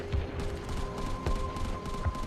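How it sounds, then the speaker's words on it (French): Anti-aircraft guns fire in a rhythmic series of dull thuds, with a few thumps spaced roughly a second apart over a dense rumbling background. "Et puis, les canons anti-aériens ont ouvert le feu."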